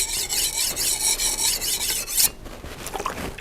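A knife blade being sharpened, with steady, close rasping strokes that run continuously and grow softer and sparser toward the end; no voices.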